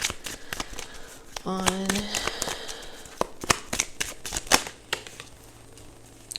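Tarot cards being shuffled by hand, a series of quick soft riffling flicks and taps, with a voice speaking briefly over the card noise.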